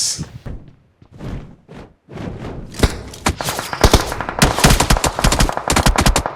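Loud rapid bursts of automatic gunfire and single shots ring out in a PUBG Mobile match, dense and close, building into continuous fire after a few scattered early shots.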